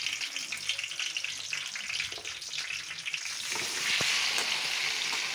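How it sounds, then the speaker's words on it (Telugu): Tomato pieces fry in hot oil for a tomato pickle, giving a steady, bright sizzle that crackles continuously and grows a little louder toward the end, close and with no voices. "ఆయిల్ హీట్ అయిన తర్వాత దానిలో వేసి బాగా మగ్గపెట్టేసుకోవాలి"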